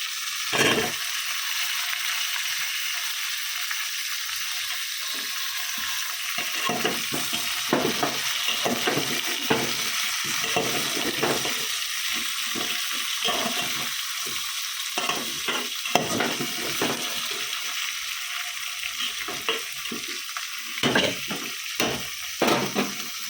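Rice and lentils with ginger and cumin paste frying in a pan, a loud constant sizzle with frequent spatula scrapes and stirring knocks throughout.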